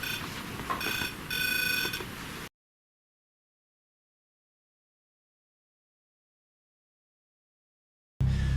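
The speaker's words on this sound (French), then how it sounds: "Il sonne, non?" A ringing phone or alarm sounds in short repeated bursts for about two seconds, a steady electronic tone pattern, then cuts to silence before a brief loud burst at the end.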